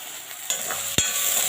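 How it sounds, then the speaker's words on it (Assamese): Onions frying in a pan, a steady close sizzle with two brief clatters of a utensil, no talking. "পিঁয়াজ ভাজি আছোঁ"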